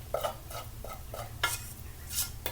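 Cooked rice fluffed in a bowl with a fork, a close series of soft scraping and light clinking strokes in an irregular rhythm, quiet and with no talking.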